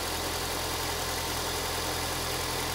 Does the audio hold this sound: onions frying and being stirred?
no